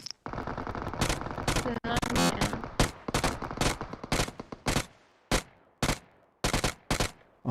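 Rapid gunfire from a shooter video game: sharp, loud bursts of automatic shots, first dense and continuous, then breaking into short separate volleys with brief gaps between them.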